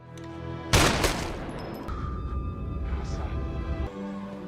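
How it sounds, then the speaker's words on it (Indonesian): Gunfire in a crime film scene where a gangster is shot dead: a loud burst of shots lands near the start, then a dense crackling rumble and tense score carry on beneath it. "Namun tiba-tiba PW datang dan langsung menembak mati Ramos."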